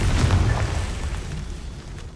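An explosive fire-blast spell goes off in a wizard video game, a deep booming burst up front that rumbles and decays over about two seconds with no talking.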